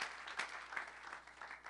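A church congregation applauds for the Lord, a steady wash of many hands clapping together, distant and quiet, lasting under two seconds with no voices on top.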